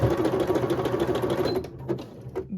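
Sewing machine stitching a ruffle onto a dress, running in a fast steady whir of needle strokes for most of the stretch, then slowing into a few short bursts near the end, close and clear with no talk.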